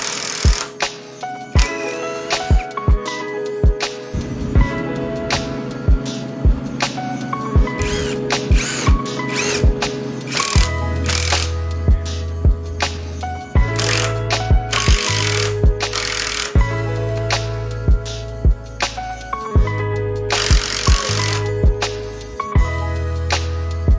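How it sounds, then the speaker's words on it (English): Power drill boring through a pine 2x4 into a backrest stretcher, then driving a lag screw, with bursts of motor whine and grinding interrupted by sharp clicks and bumps, loud and close across the whole stretch with no talking. "Then I drill a hole all the way through to the backrest stretcher to help avoid wood splitting, and then insert the lag screw."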